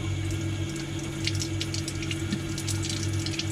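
Air sputters from a bathroom sink faucet as trapped air clears from the water lines, with a steady rush of running water and small irregular spits and gurgles throughout.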